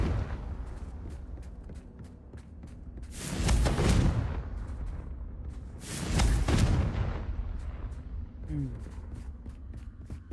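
Two heavy booming blasts of the Confringo curse in Hogwarts Legacy, a few seconds apart, each swelling and fading over a soft game background with light ticking sounds.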